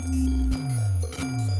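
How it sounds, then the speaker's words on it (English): A sample played through Ableton's Corpus beam resonator gives pitched, ringing metallic tones, with two or three struck hits that each sustain and glide downward in pitch, fairly quiet and with no voice over them. "we basically have this sound running through a beam"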